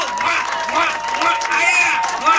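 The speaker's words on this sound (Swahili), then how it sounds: "Tupige makofi moja mbili tatu." Applause from an audience at a Kisii and Kikuyu ruracio dowry ceremony, a dense, steady patter of many hands with crowd murmur mixed in, lasting throughout at moderate loudness.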